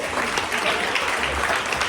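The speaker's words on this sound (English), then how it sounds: "Can we give Carissa another round of applause?" Audience at a health inequalities network meeting giving a speaker another round of applause, a brief, dense burst of many hands clapping close by, with some voices mixed in.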